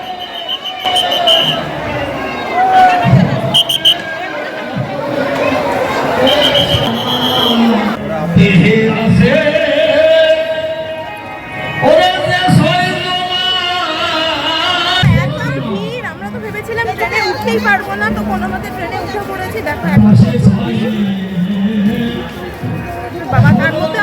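Dense crowd hubbub at the Thakurnagar fair during Baruni Snan, with station bustle: steady babble of many voices and scattered thumps, fairly loud throughout, with nearby talk riding over the din.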